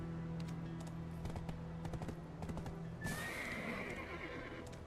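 A horse in a video game neighs loudly and whinnies, with quick clip-clop hoofbeats of galloping underneath, close and prominent over faint game ambience.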